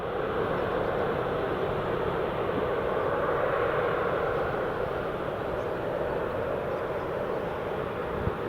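A Boeing 787 Dreamliner taking off at Newcastle International Airport, a steady, broad engine roar at a distance that holds evenly throughout with no voices over it.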